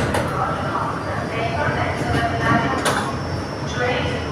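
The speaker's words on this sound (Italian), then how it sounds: "il treno è in partenza dal binario 1 e si va verso Cologno Nord" A Milan metro train at Cascina Gobba station departs toward Cologno Nord, with a steady rumble, rattling, and a few sharp clanks close by, while a voice speaks over it.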